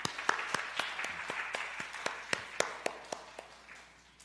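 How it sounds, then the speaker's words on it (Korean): A church congregation gives a short round of applause for a young member, heard as sparse, fairly distinct hand claps over a soft room wash and gradually thinning out. "우리 지숙이 위해서도 박수"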